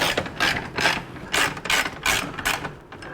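A ratchet wrench works rusted screws loose on a Club Car DS golf cart, giving repeated close clicking strokes in a steady back-and-forth rhythm, loud and alone.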